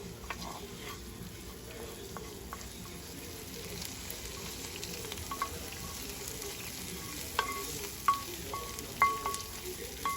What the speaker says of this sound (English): I'm going to add in the sofrito